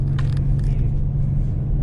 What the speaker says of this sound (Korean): 배기음이 크다 보니까 엔진음이 크다 보니까